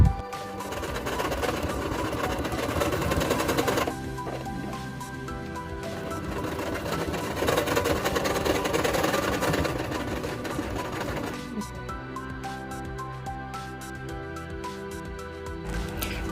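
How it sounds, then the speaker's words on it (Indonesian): A sewing machine hums steadily without pause while top-stitching along the upper edge of a patchwork fabric bag made from scrap cloth, with a dense mechanical whir that shifts slightly in tone partway through. "kemudian jahit tindas bagian atas tas agar rapi"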